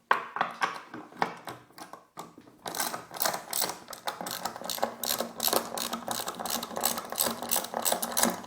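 A ratchet undoes a lock nut on the plastic cover of a Royal Enfield Bullet 500 EFI motorcycle, giving quick clicking runs, a short pause, then steady repeated ratcheting strokes close up.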